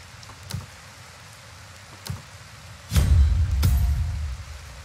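Steady rain hiss in the tavern-management game Tavern Master, a soft constant wash that swells louder in the second half, with a few brief low thumps scattered through.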